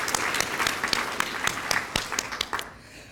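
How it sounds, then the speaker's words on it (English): An awards-ceremony audience claps in sustained applause, many hands close together in a dense patter that thins and fades out near the end. "Let's give them a round of applause."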